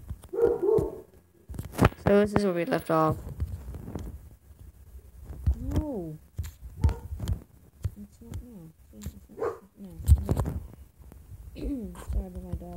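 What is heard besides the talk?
dog barking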